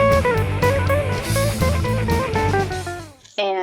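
An unamplified electric guitar plays a short melodic solo of quick, thin picked notes and bends, close up with no voices.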